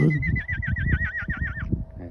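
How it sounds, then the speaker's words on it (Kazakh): A horse gives a loud, close whinny at night near a tent campsite, wavering for about two seconds, with soft rustling and shuffling around it. "Жылқылардың дауысын естиміз ғой. Түнде жылқылар жүр ана жақта."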